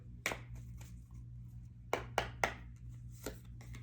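Several crisp, papery slaps and riffles of tarot cards being shuffled, in short bursts over a steady low hum, with no talking.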